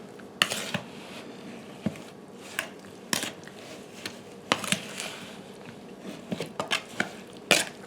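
Mixed blackberries and raspberries are stirred in a bowl for a pie filling, making close, irregular clinks and taps of a utensil against the bowl with soft wet shuffling between them, and no voices.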